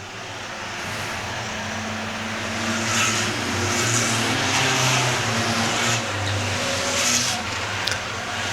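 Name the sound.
race cars on Star Speedway track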